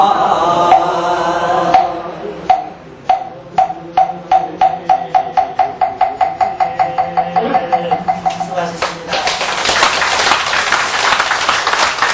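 Applause at a Buddhist Lotus Sutra dharma service: steady rhythmic clapping in unison builds into a loud, dense burst of applause by a gathered congregation, with some voices underneath.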